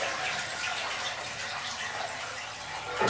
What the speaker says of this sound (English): Nothing but fill up the toilet with more water.